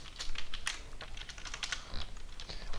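Rapid keystrokes on a computer keyboard, a quick uneven run of light clicks close to the microphone, with brief pauses between bursts.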